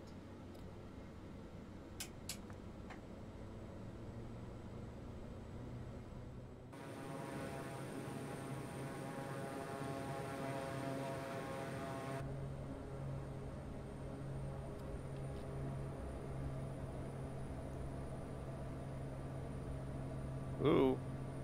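FSReborn FSR500 turboprop engine in the flight simulator game MSFS2020, a steady droning whine with tonal harmonics that shift partway through, running under intermittent talk.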